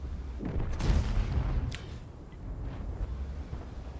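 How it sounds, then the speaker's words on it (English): An AMX 30B tank gun fires in the World of Tanks video game, producing a couple of heavy booms with a rumbling low tail over a steady background drone. "Just keep the gun firing"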